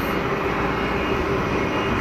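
Airliner engines at Geneva Airport spooling up, a steady loud broadband roar with a faint whine throughout, continuous and close with no talk.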